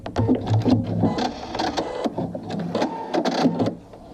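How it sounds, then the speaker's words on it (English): A sewing machine runs back over the stitching on a wrist strap near a swivel clasp, short rapid bursts of needle clatter starting and stopping in quick succession, close and fairly loud with no talking. "And I'm just going to go back over my stitching again over here."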